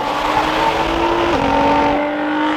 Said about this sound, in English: That GTR is fast.